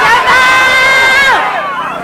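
A rally crowd shouting together in one loud sustained collective yell at an MLK march, voices merging into a roaring cheer that swells and then trails off.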